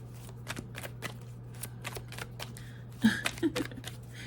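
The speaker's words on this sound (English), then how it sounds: "You're pushing the cards. They're gonna fall." Playing cards are pushed and shuffled across a table during a tarot reading, a series of soft, close, rapid clicks and scrapes over a steady low hum, with a louder burst of card handling near the end.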